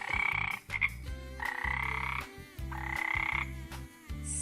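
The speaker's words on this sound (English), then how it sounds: "Frog sound is ribbit." Frog croaking in a close, loud rhythmic series of pulsed calls, repeating several times in quick succession with no talk.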